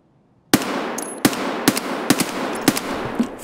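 Full-auto gunfire in the video game Escape From Tarkov: several sharp, loud bursts of shots ring out in an uneven rhythm after a brief silence, each crack followed by a lingering echo.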